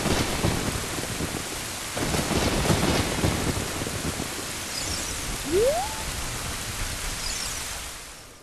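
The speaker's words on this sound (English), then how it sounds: "Yeah, it was raining already." Rain and thunder in The Legend of Zelda: Ocarina of Time: a steady hiss of falling rain with low rolling thunder rumbles swelling now and then, plus a brief rising whistle-like tone midway.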